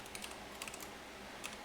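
Brisk typing on a computer keyboard during a Python programming tutorial, with irregular clusters of close, crisp key clicks and no talking.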